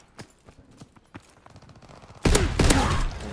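Call of Duty: WWII automatic weapon fire starts as faint, scattered distant shots, then erupts into a loud, close burst of rapid gunfire that carries to the end.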